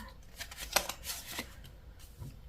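Tarot cards are shuffled and squared up by hand in a few short, soft riffling bursts with quiet pauses between them.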